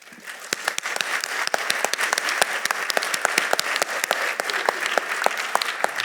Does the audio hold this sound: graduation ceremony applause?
yes